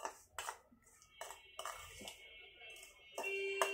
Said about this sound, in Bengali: এগুলোকে একটু একত্রে মিশিয়ে দিচ্ছি যাতে করে গুঁড়ো দুধ দলা পেকে না